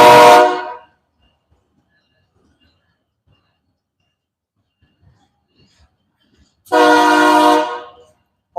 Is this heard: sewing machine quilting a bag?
no